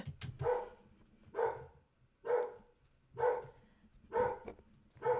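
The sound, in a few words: dog barking at something outside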